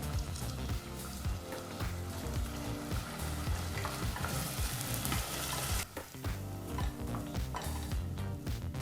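Masala paste with onions fries in a pan, sizzling loudly and continuously while a utensil stirs and scrapes through it, with occasional clatter of metal.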